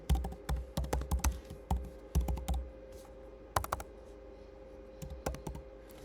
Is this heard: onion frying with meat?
no